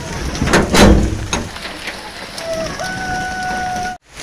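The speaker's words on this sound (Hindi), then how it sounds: "बारिश बहुत ज़्यादा तेज़ हो रही है अभी।" Steady rain pours down, a dense hiss with a few louder knocks early on and a faint tonal hum toward the end before it cuts off.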